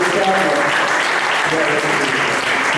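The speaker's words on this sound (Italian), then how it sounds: "Quindi volevo fare un applauso a lui" A crowd at a wine cellar presentation in Alessano applauds continuously, loud and dense, with faint voices murmuring underneath the clapping.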